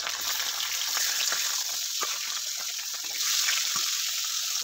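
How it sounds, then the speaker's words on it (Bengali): Pieces of rohu fish frying in hot oil for a Bengali fish kalia, giving a continuous crackling sizzle with scattered pops and spatters, moderately loud and close, with no voices. "এবার আমি বাকি যে মাছগুলো আছে সেগুলোকেও ভালো করে ভেজে নিচ্ছি।"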